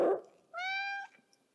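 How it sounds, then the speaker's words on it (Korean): A cat gives a single clear, close meow, short and slightly rising, after a brief rustle and before near silence. "저는 저희 고양이 실장님 푸시캣의 인사를 마지막으로 마무리 드리도록 하겠습니다"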